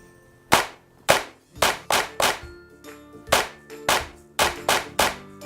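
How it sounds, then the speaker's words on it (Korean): Hand claps keep the beat where letters of the BINGO song would be sung, about a dozen sharp, close, loud claps in an uneven rhythm of singles and quick pairs, with faint background music between them. "무조건 박수로만 불러야 되기 때문에"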